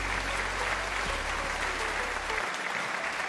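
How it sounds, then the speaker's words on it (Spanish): Audience applause at a personal finance panel event, a dense steady wash of clapping from a seated crowd that holds evenly for a few seconds with a low hum underneath. "Fuerte el aplauso para esta segunda ronda, por favor."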